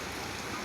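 Continuous heavy rain pours down in a steady, dense hiss with no breaks, moderately quiet and heard alone without any voices.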